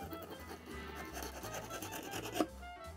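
A flexible knife scrapes ridges off a block of clear ice, close repeated raspy strokes at moderate volume with a sharper scrape near the end, no voices.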